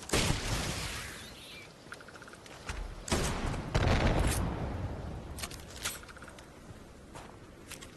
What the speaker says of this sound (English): Figured I'd test this gun out eventually.